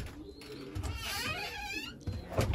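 Pigeons coo in a loft where old breeding cockbirds have been put in with young birds, a soft continuous murmur of cooing and fluttering close by, with no talk.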